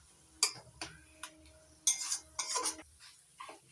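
A spoon stirs a sticky jaggery and ripe jackfruit filling in a pan over medium heat, producing irregular scraping and clinking strokes, close and quiet, with pauses between bursts.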